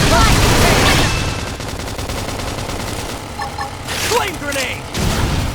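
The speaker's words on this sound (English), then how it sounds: "Okay, here's my" Flame grenade attack from the Xenoblade Chronicles X video game, a loud burst of blasts and crackling at the start, then mixed combat effects with game voices over the top.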